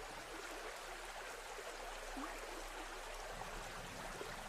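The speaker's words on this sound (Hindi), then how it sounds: "मैं जरा मुंह धोऊं।" Water splashes steadily and continuously as someone washes their face outdoors, a constant rushing wash with no speech.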